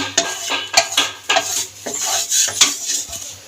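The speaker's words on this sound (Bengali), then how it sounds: "চারিদিকে তেলটা লাগিয়ে নেব কড়াইতে।" Oil being spread around an empty metal kadai, heard as a series of quick, close scraping strokes of a utensil against the metal, coming in an uneven rhythm of about eight passes with no talking.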